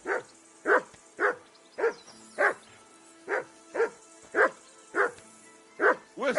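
Repeated barking from a dog in Kingdom Come Deliverance: around eleven regular, punchy woofs spaced roughly half a second apart, clear and fairly close, with no talking over them.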